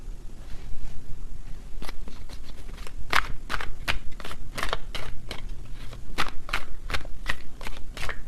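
Tarot cards being shuffled up close, with a string of sharp riffling flicks and slaps arriving in an uneven rhythm over a low background rumble.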